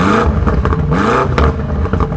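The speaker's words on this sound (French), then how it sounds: "la M5 c'est pas une série 5 normale, on a un V8 4 litres 4 de 600 chevaux" A 600 hp BMW M5 with a 4.4-litre V8 accelerating in second gear, a loud, close, continuous engine roar with rising and falling pitch across the run and no talk.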